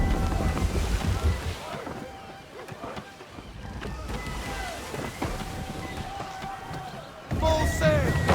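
Sailing ship at sea in Assassin's Creed III: steady wind and rushing water wash against creaking hull sounds, with a louder surge near the end, under a voice shouting orders.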